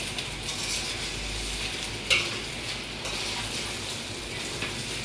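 A mixture is stirred into hot oil in a pan, giving an even, continuous sizzle with soft stirring scrapes and one sharp metallic clink partway through.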